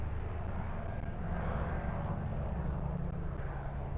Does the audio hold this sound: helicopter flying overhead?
yes